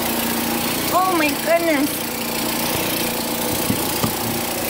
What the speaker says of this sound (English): So my husband's blowing snow.